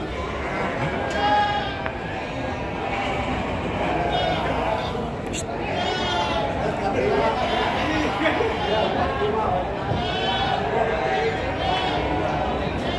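Sheep bleat repeatedly among a dense crowd at a livestock market in Tanjung Sari, Sumedang, with steady chatter and talking throughout.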